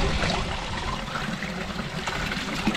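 Water runs from a public fountain at Noiaris into a bottle during a refill on a hot summer gravel ride, a steady broadband trickle and splash that holds close and fairly loud for the whole stretch.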